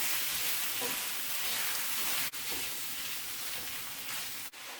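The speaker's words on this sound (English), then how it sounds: "I'll start crumbling up my sausage" Crumbled sausage browning in a pan gives off a steady, even sizzle and hiss that runs throughout, with two brief dips where the frying noise cuts out for a moment.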